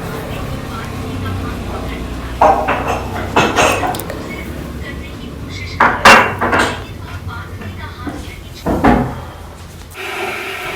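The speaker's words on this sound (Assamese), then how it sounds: "আদা নহৰু জলকীয়া গোটেইখিনি একেলগে খুন্দি ল'লোঁ" Ginger, garlic and chili are pounded together for a pork dish, giving clusters of sharp, hard thuds in short bursts separated by quieter pauses.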